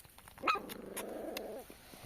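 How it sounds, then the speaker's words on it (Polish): A small puppy gives a short yip followed by a drawn-out growly bark, faint and close, then quiet. "No ten na pierwszy się nauczył szczekać chyba."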